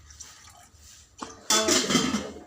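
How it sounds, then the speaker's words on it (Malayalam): Hot water is poured into a sardine fish curry being made, a sudden splashing gush that starts after a quieter stretch of faint drips and kitchen noise, close and fairly loud. "ചൂടുവെള്ളം ഞാൻ ഒഴിക്കുന്നത്"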